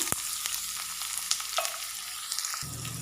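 Eight small chopped shallots fry in ghee for uluva kanji, giving a dense, close, continuous sizzle with light stirring scrapes and occasional pops, and no talk.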